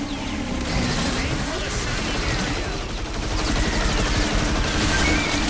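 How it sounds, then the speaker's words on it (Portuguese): Continuous automatic gunfire from the video game Earth Defense Force 6, a dense, steady barrage with crashing impacts that runs unbroken throughout at high level. "Você dá um comando de tiro, ele fica atirando, ó."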